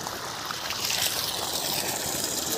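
Water gushes steadily from the outlet of a 900W BLDC motor pump on a 70-foot, 2-inch farm borewell, making a continuous loud rushing splash into a field with no talking.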